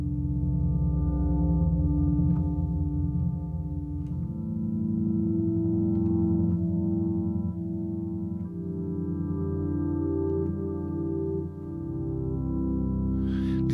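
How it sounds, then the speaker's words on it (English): Organ-like pad played as sustained chords on a Novation Peak desktop synthesizer, rich harmonic tones held for several seconds before shifting to new chords, smooth and continuous with no voices. "This is a sort of organ-like sound"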